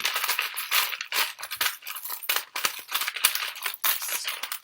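Small tarot letter charms jumbled together by hand, giving a dense run of light clicking, clattering taps close by with no talk.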